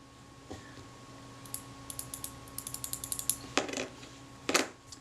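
Rapid light mechanical clicks and ratcheting snaps from a 35mm film camera shutter's blade actuating ring, close up, building in a quick irregular run with a couple of sharper clacks near the end.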